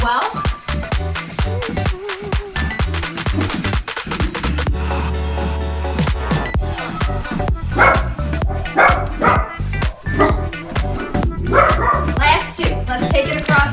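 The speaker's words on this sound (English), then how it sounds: "Not sure what they're barking at." Dogs bark repeatedly in the background of a HIIT cardio and weights workout, sharp yips and woofs coming in irregular bursts while a trainer talks over them at moderate volume.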